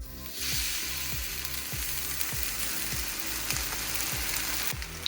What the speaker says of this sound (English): As these are frying, you can see they're puffing up and getting big.